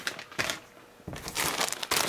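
Plastic bags holding the lower receiver parts and rear stock of a rifle build kit crinkle and crush in bursts, close and fairly loud, with short quiet gaps between the handling noises.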